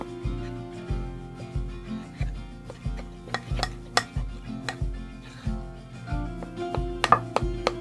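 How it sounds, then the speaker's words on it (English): A spoon works through a pot of stew with steady, rhythmic scraping strokes, each pass rasping against the pot and joined by occasional light metallic clinks, close and fairly quiet with no voices. "now we're gonna give that a stir."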